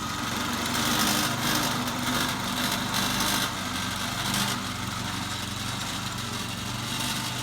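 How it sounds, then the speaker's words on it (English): A rented Blue Bird lawn aerator's small engine drones steadily and close by while it pulls soil plugs from a yard, with a continuous buzzing roar that barely varies and no talk. "Just rented an aerator from Bob's Rental."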